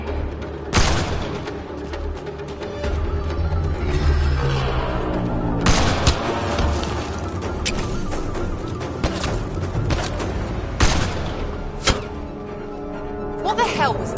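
Gunfire during a firefight in Mass Effect Andromeda, with sharp loud shots and bursts spread across the scene, several heavy booms standing out over a steady battle din.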